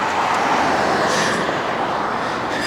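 Steady roar of traffic on a busy street in Mexico, a broad continuous wash of passing vehicles, loud and close, with no clear voices over it.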